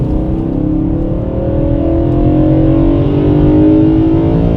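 A BMW E92 M3 V8 fitted with an Eventuri carbon fiber plenum revs loud and close on a slippery road, its engine note climbing in pitch in one sustained pull.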